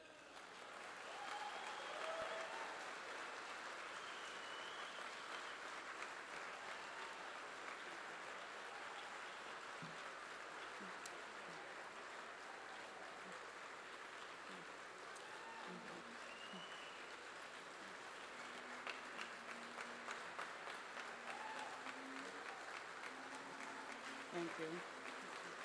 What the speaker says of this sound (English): please join me in a round of applause as Cynthia takes the stage